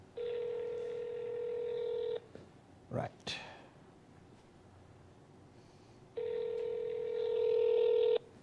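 A telephone keypad sends two long bursts of dialing tones while a call is placed, with a short spoken word and breathy noise in the quiet gap between them.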